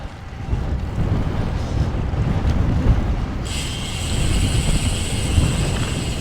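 Strong wind buffets the microphone while a cyclist rides north into a February headwind, a loud, steady roaring rush throughout, joined partway by a faint high whine, with no talking.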